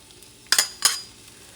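Chopped onion dropped into a tablespoon of preheated olive oil, giving two short, bright sizzling bursts close by that quickly fade, with a little stirring and utensil contact in a quiet kitchen.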